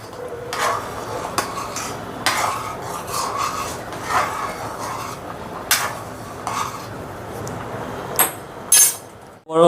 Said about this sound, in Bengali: এবার একটু নেড়ে দেবো ডালটাকে